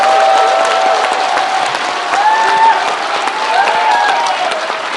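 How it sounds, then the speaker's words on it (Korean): An audience at a talk concert in Gwangju applauds, a dense, sustained clapping that stays loud and even for several seconds, with a few faint voices and whistles mixed in. "박수 한번 쳐주시죠"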